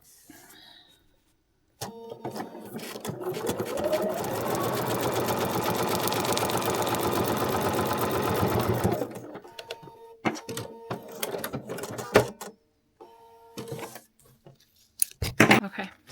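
A sewing machine stitching seams for foundation paper piecing on a quilted tree block runs in one steady burst of about seven seconds, followed by scattered handling clicks and soft rustling.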